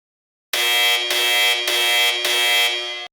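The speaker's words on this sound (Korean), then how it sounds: "갑자기 회의실 천장 스피커가 날카롭게 울린다." Sharp electronic alarm from a control room ceiling speaker, four loud buzzing pulses in quick succession, harsh and tonal, sounding alone.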